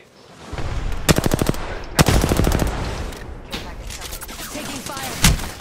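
Apex Legends gunfire crackles in loud rapid bursts, with two long automatic volleys and scattered shorter shots, while players talk over the battle.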